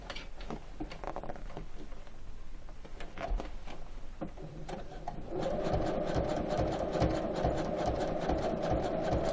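A sewing machine stitches a holding seam on torn jeans, near and steady, with scattered clicks and handling noises before the motor settles into a continuous rapid needle rhythm.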